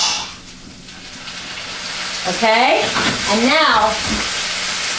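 Broth hits a hot pan of kale and sizzles into a steady, loud hiss of frying and steaming, continuing under a person talking briefly in the middle.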